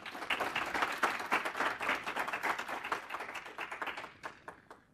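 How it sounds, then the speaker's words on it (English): An audience at a MySQL conference talk applauds in a dense burst of clapping that holds strong for a few seconds and then thins out and fades toward the end. "So everybody give a big round of applause to Sheeri here."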